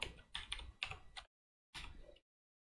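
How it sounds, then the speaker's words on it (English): Someone types on a computer keyboard with one hand, giving several short bursts of close, crisp key clatter separated by brief pauses. "typing with one hand here is a little bit difficult"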